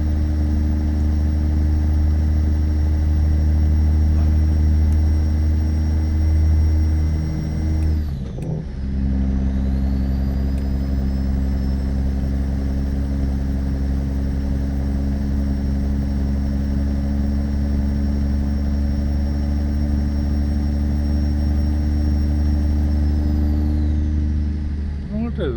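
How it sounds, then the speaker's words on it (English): Truck engine in American Truck Simulator, a loud steady drone with a high turbo whine that drops out briefly around a gear change, then rises and holds again over the continuous engine hum. "It sounds like something to do with the engine. As the engine's revving up. Must be a turbo whine."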